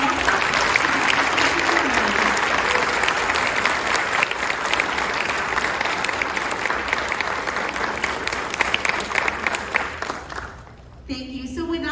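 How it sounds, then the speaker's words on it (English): A school concert audience claps in a sustained, dense round of applause that carries on for several seconds before tapering off, followed by a brief voice. "A big round of applause and welcome."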